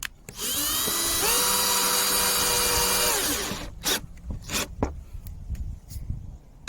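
A power drill drives stainless steel screws into a hinge on a small tool shed being converted for a mower. One sustained whirring run, close and loud, ramps down, followed by a few sharp clattering knocks and handling noises.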